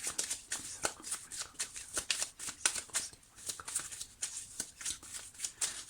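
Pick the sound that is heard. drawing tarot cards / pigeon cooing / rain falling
drawing tarot cards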